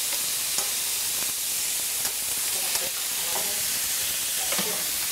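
Burgers sizzle steadily in a preheated pan, a dense broadband hiss with occasional pops and crackles, close and continuous.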